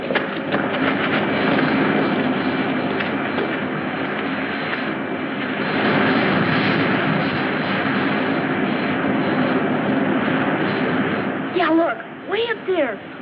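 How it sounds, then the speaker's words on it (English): A spaceship comes in to land with a loud, continuous roaring engine rumble that swells and holds steady, then breaks up near the end with a few rising whines. "Handle the landing, Griff."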